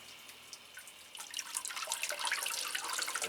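A potted phalaenopsis orchid is dunked into water, giving a soft splashing, trickling wash that grows busier and louder after a quieter start, heard alone without talk.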